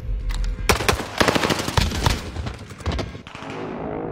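Rapid bursts of automatic gunfire and heavy thuds from a video game shooter, loud and dense, with short pauses between volleys.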